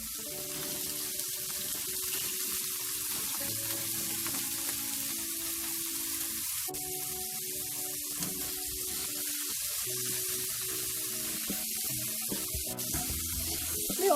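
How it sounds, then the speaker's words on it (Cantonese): Shrimp pan-frying in hot oil give off a steady, close sizzle and hiss that runs unbroken and evenly loud throughout, with no talking. "先煎一煎呢個蝦先。 每邊大約煎佢1分鐘就得㗎啦。"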